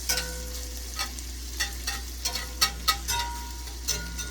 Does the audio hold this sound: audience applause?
no